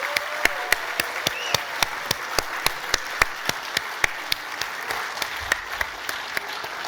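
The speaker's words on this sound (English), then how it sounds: "for all of us to give John Chauvin a huge round of applause" Sustained applause fills a hall at a Stanford summit event, with many hands clapping together and a few sharp, rhythmic claps standing out loud and near.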